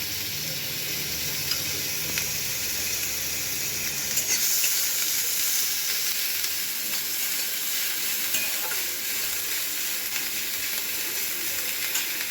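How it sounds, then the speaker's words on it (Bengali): Onion frying lightly in a few spoons of oil for potato paratha filling, a steady close sizzle with soft stirring scrapes throughout, no voices. "জাস্ট হালকা করে একটু ভেজে নেব"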